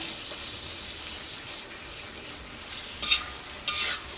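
Tomato masala frying in a hot pan for Kerala chicken roast, stirred with a spoon: a steady sizzle throughout with a couple of brief scraping clinks near the end, close and alone.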